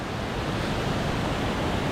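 A popular swimming-hole waterfall in the Cohutta Mountains of North Georgia rushes with a steady, broad, loud roar of falling water, unbroken and with no voices.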